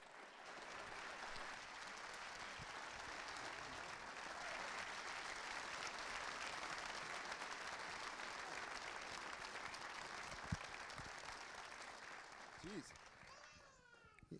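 A crowd at a Jersey Shore event in Toms River, NJ applauds to welcome guests onto the stage, a broad, steady clapping that fills most of the clip and thins out near the end as a voice begins.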